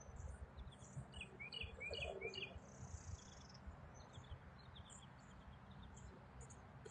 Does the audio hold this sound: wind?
no